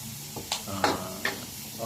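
Onion and garlic frying in a pan, a close sizzle broken by several quick stirring scrapes, with a voice talking faintly underneath.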